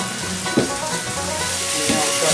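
Country ham sizzling in grease in a pan, a loud, steady frying hiss with a couple of crackling pops, heard close up.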